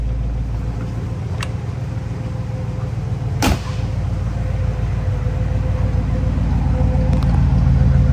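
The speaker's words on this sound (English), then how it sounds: "Not a sports car, just a nice cruiser, but it does have that little bit of V8 to the rumble" A steady, low V8 exhaust rumble from a 1956 Dodge Custom Royal Lancer with chrome tips idles throughout, constant and close, with a couple of sharp clicks and no talking.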